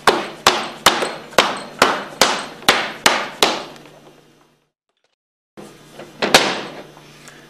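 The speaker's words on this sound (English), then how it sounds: "we'll use a rubber hammer to" Nine sharp, evenly spaced rubber hammer strikes on a Hypro 2535S piston pump's discharge manifold ring out close by, then fading residue, a pause of silence, and two more knocks amid shuffling.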